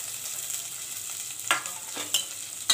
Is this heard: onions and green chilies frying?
yes